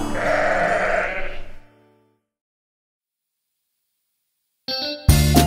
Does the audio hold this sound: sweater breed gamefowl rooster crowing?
no